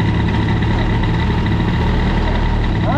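A boosted Airsal XT 77 Nitro scooter engine runs steadily close by, a loud, even buzzing drone with a deep throb underneath, holding constant throughout.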